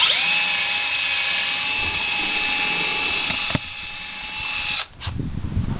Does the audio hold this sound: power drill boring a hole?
yes